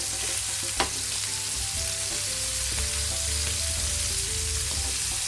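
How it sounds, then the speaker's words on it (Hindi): Prawns fry in a pan for a Maharashtra-style prawn masala, giving a close, steady sizzle and crackle with a sharp click from a utensil early on. A low tonal hum sits beneath, and no one speaks. "दूसरी तरफ भी ऐसा लाल करके हमें फ्राई करना है"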